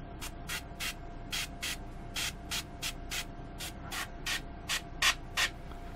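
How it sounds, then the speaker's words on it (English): An airbrush sprays paint to build texture on a blue-green bubble rim, firing about fifteen short hissing bursts in an irregular rhythm over a low steady hum, close and fairly quiet. "It's probably very bad airbrushing practice, but if it's done deliberately, it's design."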